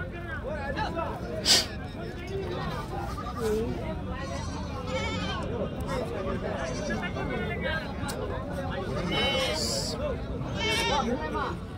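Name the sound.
goats bleating at a livestock market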